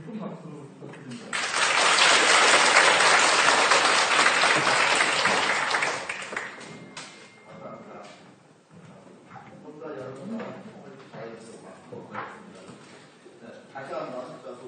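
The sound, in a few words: audience applause welcoming guest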